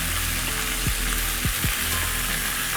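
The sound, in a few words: beef short ribs searing in a pan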